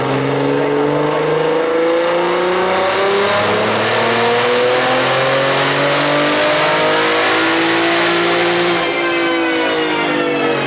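A tuned car on a 17 PSI boost run at BMS revs hard and loud, its engine note climbing steadily in pitch through several sweeping pulls with no talking over it.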